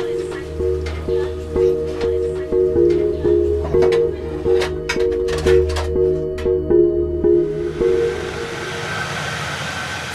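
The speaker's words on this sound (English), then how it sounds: "The roar of the engines can be heard from 6 a.m." Low steady engine drone of a river boat on the water in Gabon, with rhythmic mechanical thumping and a few sharp knocks, loud and close, then a hissing wash of water toward the end.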